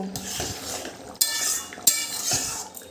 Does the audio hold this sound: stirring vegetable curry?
yes